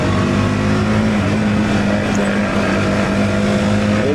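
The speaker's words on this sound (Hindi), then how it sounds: "अभी मैं फिलहाल बाइक को उड़ा रहा हूँ" A motorbike ridden fast along a mountain valley road, its engine a steady loud drone with constant wind rush, continuous and close throughout with no pauses.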